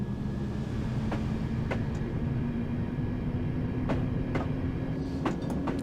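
A London Underground D78 stock train runs along the track with a steady low rumble, broken by periodic sharp clicks of wheels over rail joints, heard from inside the moving train.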